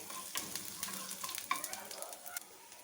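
Curry leaves, ginger and dried red chillies frying in a pan for masala dosa, a steady close crackling sizzle with small pops and stirring, no talk over it.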